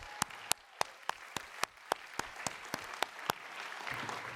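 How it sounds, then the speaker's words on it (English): Guests at an Asian Pacific American scholarship and awards gala applaud the honorees: a faint bed of room clapping punctuated by a dozen sharp, evenly spaced claps close by, fading into crowd noise. "Can we please have another round of applause for them?"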